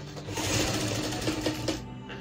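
A sewing machine stitches a small folded hem around the neckline of a women's slip, running as a continuous close mechanical whir and clatter that stops near the end.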